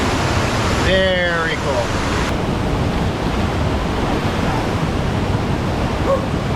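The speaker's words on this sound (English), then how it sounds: "Nothing like a dip in a tropical waterfall." Tropical rainforest waterfall on the Road to Hana in Hawaii, a continuous loud broadband rush of falling water that runs the whole time, with someone briefly speaking near the start.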